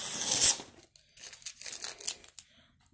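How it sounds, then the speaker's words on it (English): Plastic packaging peeled and torn off a parcel of branded pencils by hand, a loud crinkling rip followed by a pause and then another stretch of tearing and crackling, close up with no talk. "let me just peel this off."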